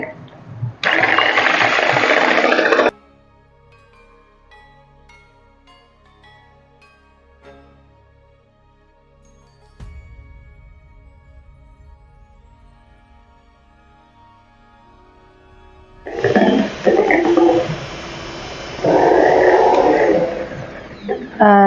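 An electric beater whirs loudly through tea cake batter in two bursts, one at the start and a longer one at the end, with a quieter gap between.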